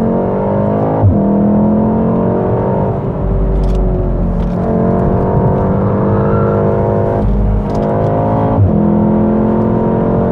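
A Volkswagen Golf R engine revs hard and loud through several accelerating pulls, with brief gear-change dips and faint pops from the exhaust between them, close and continuous for the whole stretch.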